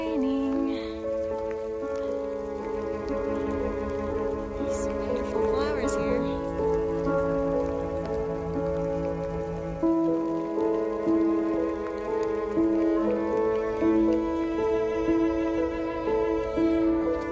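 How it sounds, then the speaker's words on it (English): Steady rain falls on a backpacking campsite in the Wind River Range mountains during a storm, a continuous patter beneath sustained tonal background sounds, with no distinct thunder clap standing out. "Well, we've got rain and thunder, so we have taken cover."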